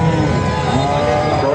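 A Friesian dairy cow at a busy cattle market in Muktagacha, Bangladesh, lets out a low, drawn-out moo amid dense crowd noise.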